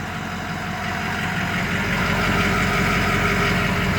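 A 2005 Ford F-250 Lariat Powerstroke diesel idles on its factory exhaust and muffler, a steady, even low rumble with a faint diesel clatter, close and fairly quiet, with no talking.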